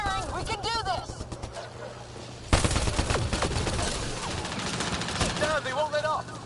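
Gunfire from the video game Mass Effect Andromeda, with a sudden loud burst of rapid shots and a sustained, dense barrage that continues through the rest, amid chirping alien cries and shouting voices.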